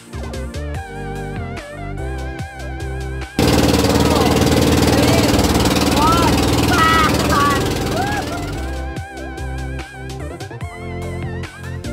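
A loud, droning motorboat engine roars steadily in the middle stretch, in Catanauan, Quezon, with music playing before and after it.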